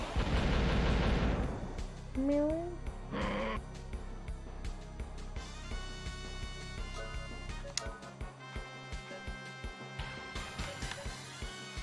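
Ice Needle, a tier-3 ice magic attack in the retro RPG Wild ARMs, plays as a loud burst of crackling, shattering game effects with rising chirps, then a string of sharp ticking hits fading into glittery tones, alone with no talk.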